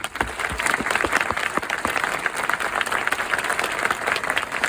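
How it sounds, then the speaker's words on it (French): A French audience bursts into loud, dense applause to welcome a visiting film crew, sustained clapping close by that stays strong from start to finish with no talk over it. "je vous demande de les applaudir"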